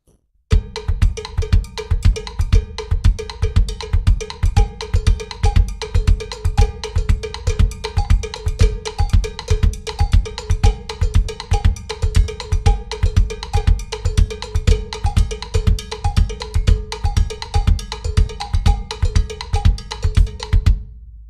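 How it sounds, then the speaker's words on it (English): A drum kit groove in a Mozambique rhythm, with a jam block struck by the left foot adding a steady, bright, woody click. The hits are loud and tightly repeated throughout, with no talking. "If I bring my left foot into this now, okay, on this jam block thing that I've got down here"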